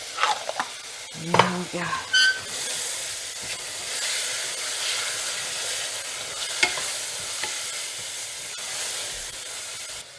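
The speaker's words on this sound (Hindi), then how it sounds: "ये अब टमाटर को मैंने मैश करके थोड़ा भून लिया है" Tomatoes and chillies frying in a pan as they are mashed, with a loud, continuous hiss and sizzle, some clattering from the spoon near the start, and a brief spoken phrase at the beginning.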